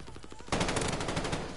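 A low-recoil KG rifle in the game Vanguard rattles off one sustained automatic burst, loud and close, after a brief quieter lead-in.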